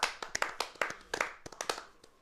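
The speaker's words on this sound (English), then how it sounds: "Just very quiet claps. Golf claps." A few people give soft, scattered golf claps at a Giants-Raiders game watch, about a dozen light hand claps at an uneven pace, close by and quiet, with no talk over them.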